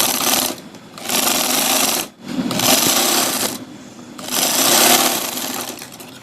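Sewing machine stitching the sleeves of an umbrella-sleeve garment, running in three loud bursts of rapid mechanical whirring separated by short pauses, close up with no talking.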